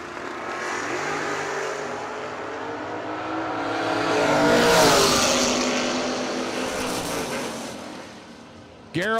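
A Chevrolet S10 truck makes a drag strip run, its engine roar swelling loudly to a peak mid-run and then fading, with a sharp burst at the very end.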